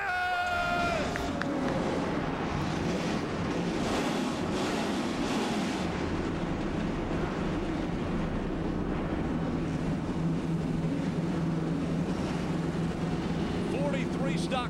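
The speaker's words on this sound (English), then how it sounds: "43 stock cars come to life." Forty-three stock cars fire up on the Daytona starting grid before a 2011 ARCA race, a dense, roaring wall of engine rumble that swells and holds steady throughout.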